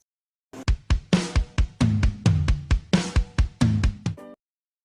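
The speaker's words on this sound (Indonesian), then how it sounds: "Drum itu adalah bunyi alat musik drum." A drum kit plays a lively beat of sharp, rhythmic hits with crashing cymbals, loud and close, lasting a few seconds alone with no talking.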